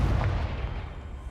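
Confringo blasting-curse explosion in Hogwarts Legacy: one brief, booming low blast that decays into a rumbling tail.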